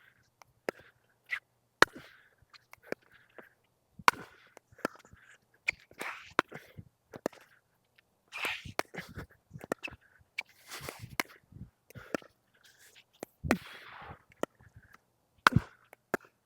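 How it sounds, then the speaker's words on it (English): Pickleball paddle striking fourth-shot balls, a series of sharp dry pops at irregular intervals, fairly close, with faint footsteps and brief talk between hits. "I'm going to hit some fourth balls."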